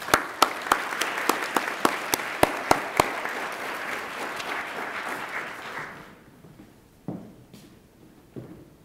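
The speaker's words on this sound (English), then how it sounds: "We owe them a big round of applause for their support of this amazing" An audience at a Martin Luther King, Jr. Day writing awards ceremony applauds with sharp individual claps standing out, the clapping fading away after about six seconds into near quiet.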